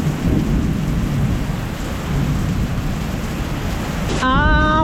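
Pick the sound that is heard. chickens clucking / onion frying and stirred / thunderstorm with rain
thunderstorm with rain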